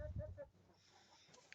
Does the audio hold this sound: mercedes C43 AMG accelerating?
no